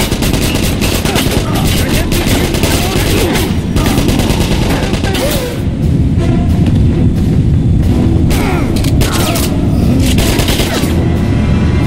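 Dense, continuous gunfire and explosions from the 2009 video game Wolfenstein, with rapid shots and booms layered over a loud battle din throughout. Voices shout in places.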